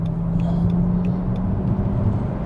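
BMW E60 550i Touring V8 engine pulling smoothly during an overtake on the road, a steady low droning rumble heard from inside the cabin, moderate and unbroken with no talk over it.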